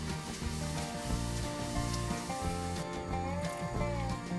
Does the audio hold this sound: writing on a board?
no